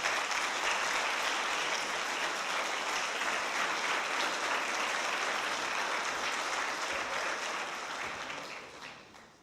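A standing church congregation at a Portuguese-language celebration service claps loudly for Jesus, a thick, continuous wash of many hands that holds steady and then tapers off in the final second.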